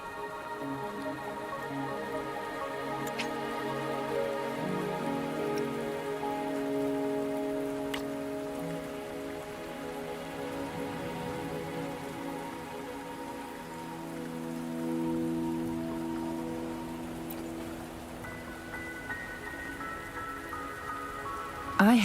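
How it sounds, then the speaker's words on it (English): Steady rain falls across a video game scene in Wuthering Waves, a continuous soft hiss of drops on surfaces mixed with sustained tonal music, moderately quiet and even throughout. "Are you trapped here by the rain?"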